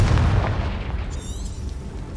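A Confringo blasting spell in the Hogwarts Legacy video game sets off a deep, booming explosion that rumbles and fades over about two seconds, with a faint magical shimmer near the end.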